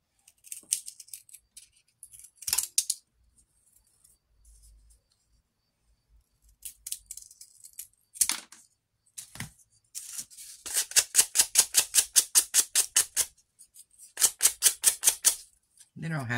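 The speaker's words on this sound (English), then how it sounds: "They don't have to be a perfect sand. You just want to get any splinters off, pretty much." Small wooden pieces for a tree fairy house being sanded to remove splinters: bursts of rapid, rhythmic scratchy strokes alternate with pauses and scattered handling knocks, close and fairly loud.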